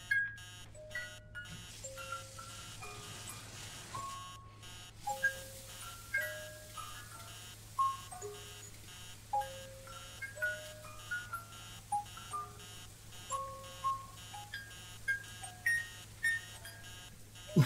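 Repeated beeping alarm clock tones ring through a game soundscape in the horror game Emily Wants To Play, pulsing in a steady rhythm over a low ambient drone and music, with no talking.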